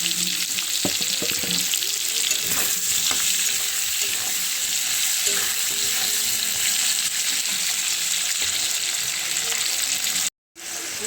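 Potatoes and onions, salted, fry in a pan with a steady, loud, continuous sizzle, broken by a brief drop to silence near the end.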